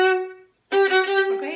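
A violin plays a short phrase from a second violin part: one held note, a brief gap, then a sustained bowed note with slight rhythmic pulses, close and alone.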